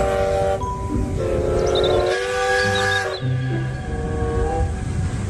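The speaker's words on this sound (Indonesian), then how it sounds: "Kereta Thomas" A bright Thomas the Tank Engine toy train steam whistle sounds in sustained tones with a steady background rumble and hiss, no talking.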